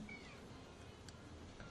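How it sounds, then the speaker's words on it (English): A cat meows softly, with a single brief, faint high call standing out over a steady background hum and no speech. "you can't hear it because Kitty's talking"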